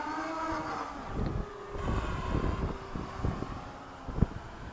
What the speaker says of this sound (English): It's a bit of a shame that it's this windy.